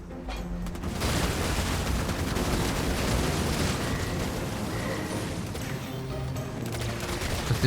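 A drop turret in the strategy game Halo Wars 2 fires during a 2v2 league finals match, producing a steady, dense roar of rapid booming shots and blasts that continues loud and unbroken for the whole stretch.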